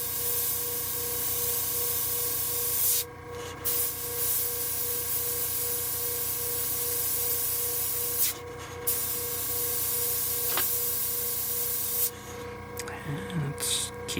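A Gaahleri Ace airbrush spraying paint, a steady close hiss of air and mist running nearly continuously, with a few brief pauses where the trigger is released and faint clicks, no talk over it.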